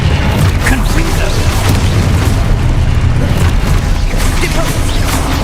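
The Confringo blasting curse from the Hogwarts Legacy video game going off as a loud, sustained booming explosion with a dense low rumble that holds steady throughout, while a voice speaks over it.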